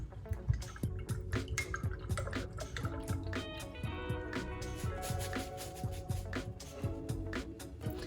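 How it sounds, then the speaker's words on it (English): A paintbrush washed in a container of water, close irregular splashing, dripping and swishing with light knocks against the container, no talk. "I'm gonna take that brush and wash it off"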